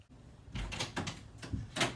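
A door opening and closing in a home during a one-person reenactment of a Shakespeare scene: a few close, soft thuds and rustling knocks spaced about half a second apart.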